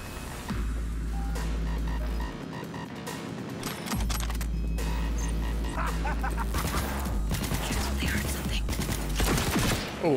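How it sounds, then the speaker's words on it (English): Sustained assault rifle gunfire in the Cyberpunk 2077 video game: a dense, continuous run of rapid shots with heavy low rumble lasting throughout, under a busy game mix of impacts and crashes. "Is this a rifle? An assault rifle?"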